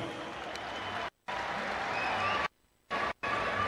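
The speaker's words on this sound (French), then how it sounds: "Applaudissez pour les Russes." Loud, dense applause from a large crowd at a rally celebrating Russia in the Central African Republic, clapping steadily and broken by a few brief cuts to silence.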